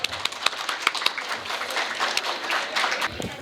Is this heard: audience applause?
yes